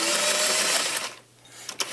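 A sewing machine stitches binding onto a fabric sleeve in a fast, close whirring burst that stops abruptly, followed by a short pause and a couple of faint clicks.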